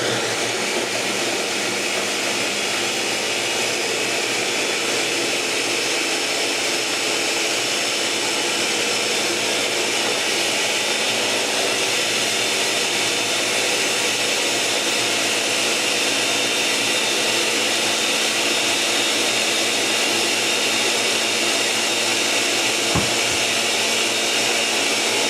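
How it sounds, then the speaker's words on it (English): A blender whirs steadily while blending smoothie ingredients, a loud, continuous motor roar that holds at a constant pitch for the whole stretch, with no talking over it. "Blender up."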